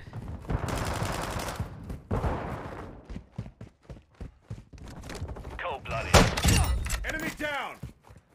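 Gunfire and impacts from the video game High on Life, bursts of rapid shots with crashing hits, mixed with game voices and effects.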